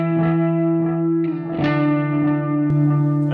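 Electric guitar running through a Boss DD-20 delay pedal stacked with a second delay, notes ringing out in a sustained, washy wash of repeats that blend into a dense, continuous bed of tone.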